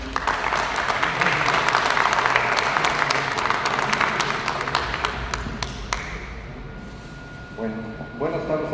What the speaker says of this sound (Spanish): Recibamos con un fuerte aplauso a nuestro ponente de esta tarde.